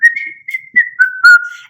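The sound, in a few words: person whistling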